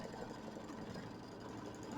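A sewing machine tacking down quilt fabric for a mini quilt, a quiet, fast even whirring stitch rhythm running steadily under faint room noise for a couple of seconds.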